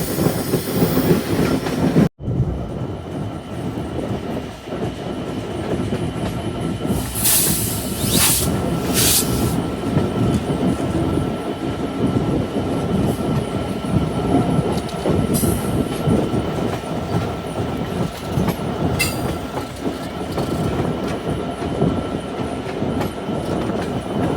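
The Intercity Ruposhi Bangla Express rolls into a station platform with a loud, continuous rumble of wheels and clattering cars, a sharp knock early on and brief high squeals and hisses later.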